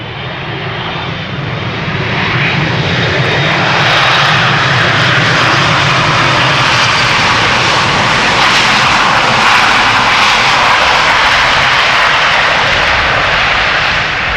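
A Delta Air Lines jet airliner at Amsterdam Schiphol Airport passes close by. Its engines surge within two seconds into a loud, dense, hissing roar that stays powerful and steady to the end, with no voices over it.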